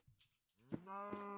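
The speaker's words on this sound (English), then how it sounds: "Looks like we got a cow friend all along for the ride too." A cow in the modded Minecraft pack All The Mods 9 gives a single loud, drawn-out moo that swells and holds steady to the end, heard alone with no talk.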